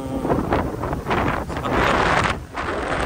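Strong wind buffets a microphone outdoors in cold New Zealand spring weather, a loud continuous roar surging and dipping over three seconds with no voices.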